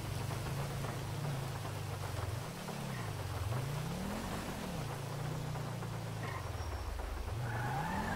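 Steady rain pours throughout a stormy scene in the video game GTA 5, with a continuous low engine drone rising and falling as a car drives through the wet streets; no one speaks.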